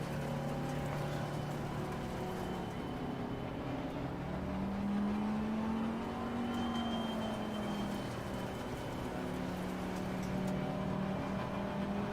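Race car engine in Assetto Corsa Competizione at Imola, a steady droning note that rises and falls in pitch as the throttle is gradually opened, loud and continuous with no talk.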